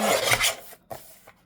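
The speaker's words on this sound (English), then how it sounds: "So I'm going to trim this down a bit." A paper journal piece is trimmed down, giving a few close, rough rasping strokes followed by short, quieter scraping cuts.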